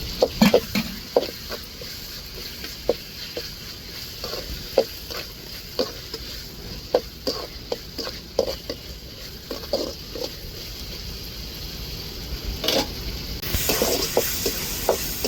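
Ginger-garlic pounded on a grinding stone, sautéed with tomato, onion and green chilli for a squid dish: repeated, evenly spaced spatula scrapes over a continuous gentle sizzle, growing slightly busier toward the end.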